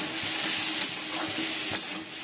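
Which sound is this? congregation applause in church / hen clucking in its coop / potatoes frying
potatoes frying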